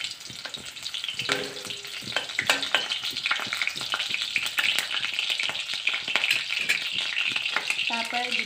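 Onions fry in hot oil in a wok, giving a loud, dense crackle with frequent scraping stirs and a few metallic knocks, close and continuous.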